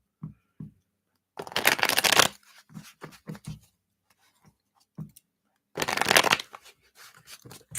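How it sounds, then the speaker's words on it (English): A deck of reading cards is shuffled in two quick riffling bursts a few seconds apart, with soft taps and handling clicks in between, close and clear in a quiet room. "Just shuffle these up."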